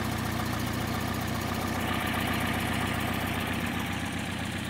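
Porsche 356 engine with Solex 40P11 carburetors idling steadily while the carburetor mixture is adjusted, a continuous close, even rumble with a slight shift in tone partway through.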